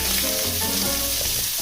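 Ginger hits a hot pan for tinolang manok, a dense, steady sizzle filling the short moment with no voices.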